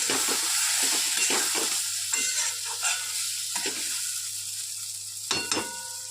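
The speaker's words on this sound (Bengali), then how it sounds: "একটু নাড়াচাড়া দিয়ে মিশিয়ে দিই ভালো করে" Egg and taro stolon curry being stirred in a pan, with repeated scraping strokes of a spoon over a steady close sizzle, the strokes arriving at an uneven pace.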